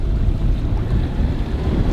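A 57 horsepower sailboat engine is run up, giving a steady, loud low-pitched drone mixed with wind and water noise, with no talking.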